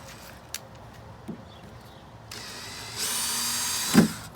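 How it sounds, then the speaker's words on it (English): Power drill used in wood window frame repair: a few faint knocks and handling clicks, then the drill whirs up in two steps and runs steadily at close range, ending with a sharp clunk. "Maybe I will use that drill."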